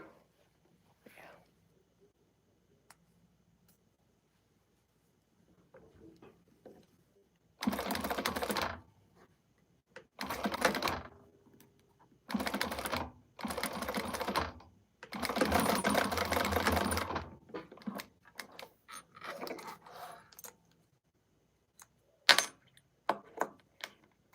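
A sewing machine stitches a D-ring closed on a quilted sewing project in short bursts of rapid mechanical clatter separated by pauses, close up, with soft speech and small handling clicks between runs.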